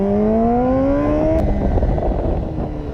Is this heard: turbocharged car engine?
yes